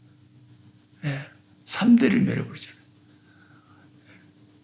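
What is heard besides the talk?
crickets chirping indoors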